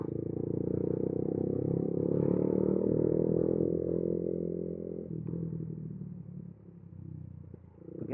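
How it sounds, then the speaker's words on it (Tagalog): A motorcycle creeps slowly over a rain-soaked, badly damaged road strewn with loose gravel, its steady low engine drone near and continuous, easing off and dipping toward the end with faint scraping underneath. "kailangan magdahan-dahan kasi nag-slide talaga yung motor"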